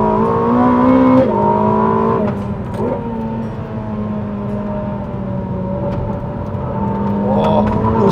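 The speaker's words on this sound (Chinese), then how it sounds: "引擎这个乐器的声音声浪" Ferrari SF90XX engine drones loudly and continuously from inside the car on a race track, its pitch dipping and climbing as the driver modulates the throttle, with road and wind roar underneath.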